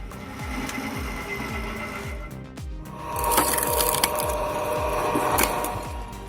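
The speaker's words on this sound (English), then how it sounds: "The homemade vertical wood splitter operates so smoothly, you'd think it was factory made." Homemade vertical gearbox-powered firewood splitter working through wood, with a steady rhythmic mechanical thumping and a rising grinding, splitting texture partway through, close and moderately loud with no talk.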